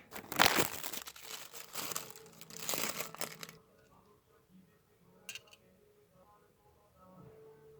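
Sheet of paper like baking paper crinkled and rustled up close for a few seconds, loud and crackly, then quiet handling with a faint soft crinkle later.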